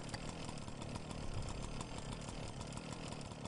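Revving chainsaw weapon in the video game Shadow Warrior 2, a dense, steady buzzing roar that runs loud and unbroken throughout with no voices over it.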